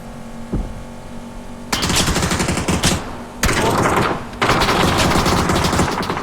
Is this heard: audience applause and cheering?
no